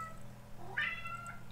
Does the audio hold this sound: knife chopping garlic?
no